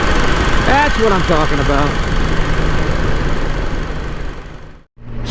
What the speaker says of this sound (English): And 6th gear and throttling up, and see how fast she would go.